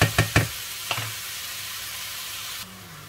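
A mushroom omelette frying in a pan gives a steady close sizzle, opened by three quick knocks and a fourth soft tap, and the sizzle cuts away abruptly near the end.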